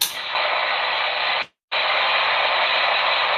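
Amateur radio static hiss on a long-distance contact toward New Zealand, a steady broadband rush that drops to near silence for a moment mid-clip and then returns at full strength, with no voice audible.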